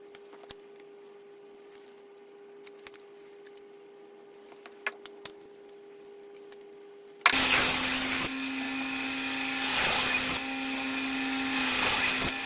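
A knife bevel is ground with a grinding jig: a few quiet clicks and handling taps, then a loud, harsh grinder roar starts about halfway and continues, swelling and easing as the blade is worked.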